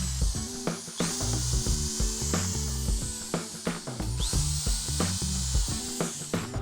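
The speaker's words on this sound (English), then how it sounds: "pre-drill pilot holes in the straight edges of the pieces." A power drill boring pilot holes into the straight edges of wooden shelf pieces, close repeated whining bursts with rhythmic start-stop pulses and brief pauses, no talking.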